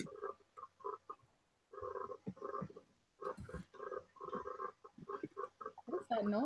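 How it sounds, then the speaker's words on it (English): A frog-like croaking call repeats in short rhythmic bursts, fairly faint, between stretches of quiet room sound, with a louder burst near the end. "Sounds like a frog."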